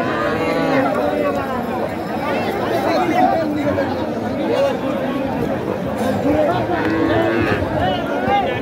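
Calves and cattle at the crowded Setabganj cattle market, with small bulls and heifer calves for sale. Constant loud crowd chatter and nearby talking cover faint animal sounds.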